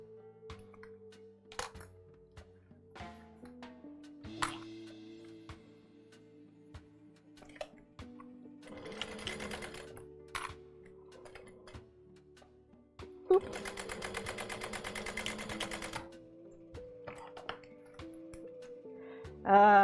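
Domestic sewing machine backstitching seams on a fabric pouch, short bursts of rapid needle chatter separated by pauses, clicks and handling taps, with one longer run of stitching in the middle, close and fairly quiet.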